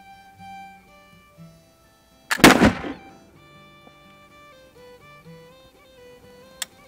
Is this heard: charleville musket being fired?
yes